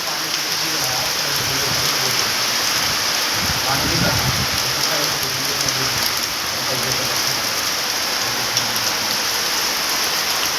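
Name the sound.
heavy rain falling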